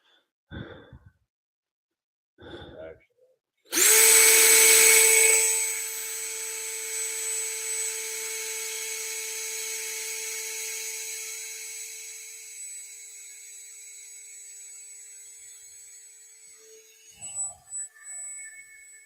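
A drill with a carbide bit starts abruptly with a loud whine that settles into a long, steady high-pitched hum, preceded and followed by brief scraping noises, during engine and idler pulley mount work on an MR6.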